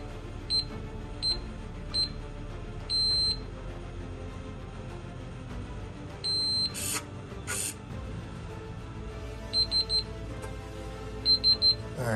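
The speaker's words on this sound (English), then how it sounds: "It'll beep twice." Short high electronic beeps from a SafeArm biometric and keypad pistol safe come in pairs and small clusters at intervals, sharp and close, with no talking around them.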